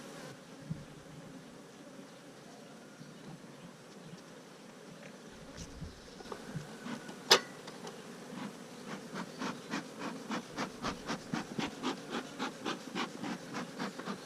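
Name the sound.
honeybees buzzing at an open hive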